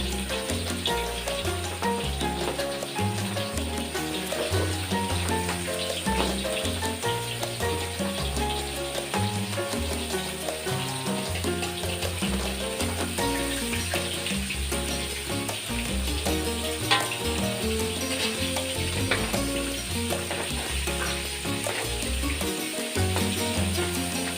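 Bangus (milkfish) frying in a large kawali gives off a steady, loud, dense sizzle and crackle that runs unbroken throughout, with no voices.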